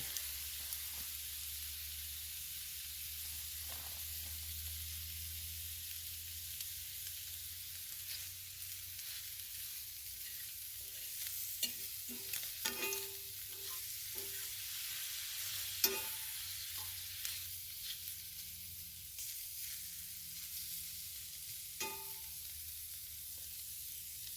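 Food sizzles steadily in a frying pan, a constant soft hiss with occasional light clinks of a utensil against the pan.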